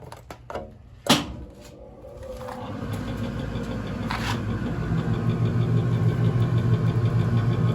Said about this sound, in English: There goes the blower.